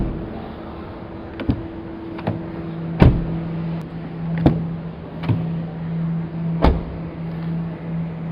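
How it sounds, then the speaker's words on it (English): A Hyundai Ioniq 5 N car door opened and closed, several sharp, solid thuds and clicks spaced across the clip over a low steady electric hum, fairly close and with no talking. "Door closing sound."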